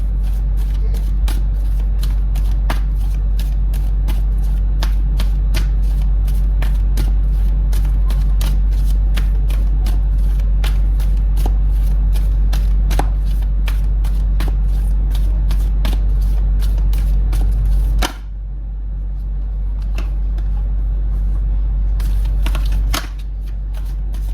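Tarot cards are shuffled by hand in rapid, crisp riffles and slides, loud and close, running steadily before a short pause and a few final taps, with no speech.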